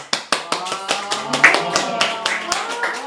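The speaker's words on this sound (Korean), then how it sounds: "박수." An audience at a forum talk claps in a short round of applause. Sharp individual hand claps at first quickly blend into an uneven patter.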